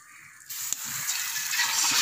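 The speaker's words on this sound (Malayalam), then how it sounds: "ഇതിലേക്ക് ഓയിൽ ഒഴിച്ച് നമുക്ക് ആ ചിക്കൻ ഫ്രൈ ചെയ്തെടുക്കാം" Chicken frying in oil in an aluminium pot on a wood-fired stove, a soft sizzle that starts suddenly and continues as a steady hiss, with a small clink early on.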